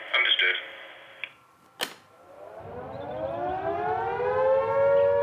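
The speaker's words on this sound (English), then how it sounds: "The sound is made by Second World War air raid sirens" A Second World War air raid siren on a roof winds up from low to a rising wail, loud and sustained, following some brief electronic tones and a sharp click.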